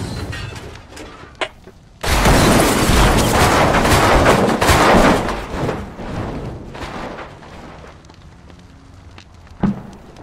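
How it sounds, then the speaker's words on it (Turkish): Helicopter exploding in a tactical squad shooter video game, a sudden loud roaring blast that sustains for a few seconds before fading, with scattered gunfire and thuds around it. "Helikopter patladı."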